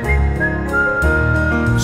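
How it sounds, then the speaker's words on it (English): Shopkeepers at a flower market in Guangzhou whistle a song, and a sustained melodic whistle carries over a warm backing of music throughout the short clip. "Shopkeepers sweep as they whistle a song to themselves."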